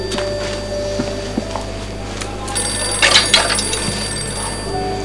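A telephone rings loudly and repeatedly in a home or office, its shrill electronic bell tones filling the room with little else but a low hum and faint footsteps.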